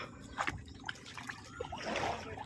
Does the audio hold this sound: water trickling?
yes